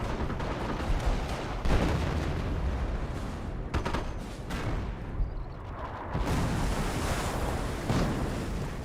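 Mortar and artillery impacts in Company of Heroes, a World War II strategy game: heavy rumbling booms with a roaring, surf-like wash of battlefield noise, several dull thuds rising and fading over a continuous low din.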